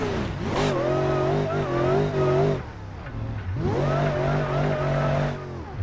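The Gravel Roamer off-road car in the BeamNG.drive video game revs loudly with a droning engine tone that rises and falls twice, broken by a short dip between the pulls.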